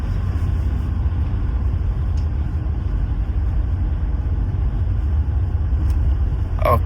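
Steady, fairly loud low road rumble and engine drone from inside a Mercedes-Benz C250 Exclusive Edition driving uphill on a road, an even tone with no talk over it.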